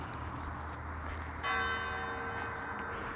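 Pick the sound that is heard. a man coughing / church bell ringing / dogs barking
church bell ringing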